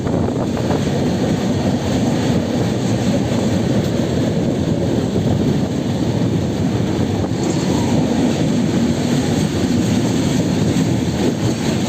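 Steady low rumble of a train running along the track between Bangalore and Mumbai, continuous and fairly loud with wind buffeting the microphone, no voices.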